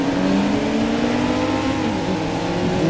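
Racing-game car engine in Ridge Racer Driftopia, a steady loud revving drone with harmonic whine held throughout, no talk over it.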